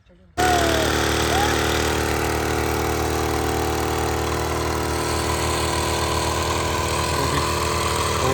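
A crop sprayer's engine starts abruptly and then runs at a steady, loud, droning idle with a constant mechanical vibration throughout.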